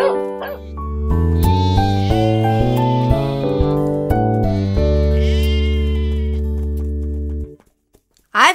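Long, wavering sheep bleats sound loudly over a sustained musical backing, then cut off, and one short burst follows.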